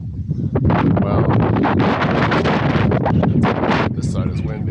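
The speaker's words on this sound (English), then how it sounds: "this side is windy." Strong wind buffets the microphone at an oil or gas well site, a loud continuous roar with gusty flutters, with someone talking over it.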